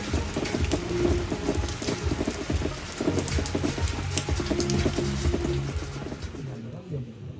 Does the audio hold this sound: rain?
yes